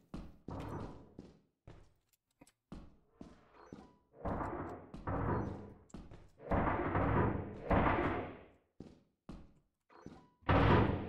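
Repeated heavy banging on a closed door in the video game Lethal Company: loud irregular thuds and knocks, some in quick clusters, others spaced out, over about ten seconds.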